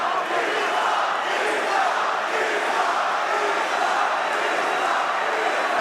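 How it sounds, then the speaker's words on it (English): UFC arena crowd chanting for Islam, a loud, unbroken roar of many voices that fills the whole stretch at steady intensity. "the Islam chants rain down"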